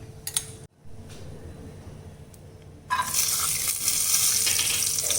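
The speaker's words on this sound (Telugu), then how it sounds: "జీడిపప్పు వేపేటప్పుడు సిమ్లో పెట్టి వేపండి" Cashews frying in a tablespoon of ghee in a pan for a Dasara festival offering, a soft crackling sizzle that swells into a steady, loud hiss after a quiet start.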